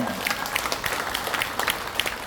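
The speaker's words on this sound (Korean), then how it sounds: "귀한 법을 해주신 한선생님께 다시 한번 감사의 큰 박수 올려주시기 바랍니다" Large audience at a Buddhist dharma lecture in a temple hall giving a big round of applause, a thick, continuous wash of many hands clapping at close range.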